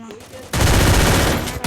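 Video game gunfire erupts after a short quiet lead-in, a loud dense burst of rapid shots continuing to the end.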